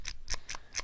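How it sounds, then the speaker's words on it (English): Plastic clicks and scrapes from a foldable headphone headband being slid up and down to adjust its sides, four quick close taps in under a second, quiet and alone. "You can hear me kind of moving it up and down to adjust on the sides."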